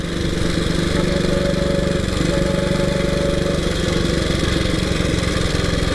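A 1926 HRD Model 80 motorcycle engine runs loud and close with a steady, rapid chugging thump, its pitch shifting slightly partway through as the throttle changes, alone without talk.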